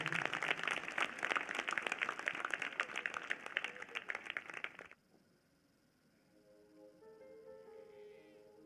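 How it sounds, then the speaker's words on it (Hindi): A church congregation at a prophecy and prayer service bursts into loud, dense applause for about five seconds, then it cuts off abruptly and quiet music or tones follow. "जोरदार ताली बजाकर धन्यवाद दें।"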